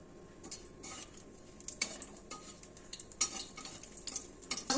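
Three chillies fry in hot oil in a pan ahead of bitter gourd, giving a soft sizzle under irregular scrapes and clinks of stirring. Fairly quiet and close, with no voices.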